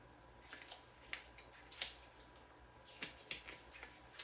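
Tarot cards are shuffled by hand at close range, a faint series of soft riffles and light slaps in uneven bursts, quiet and alone.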